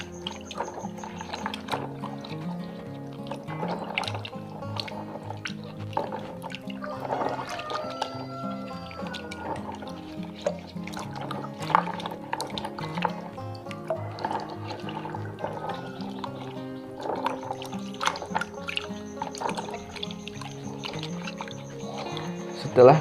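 Vanilla beans being washed clean in water by hand: continuous splashing, trickling and dripping, with small wet squishes, moderately close and steady throughout.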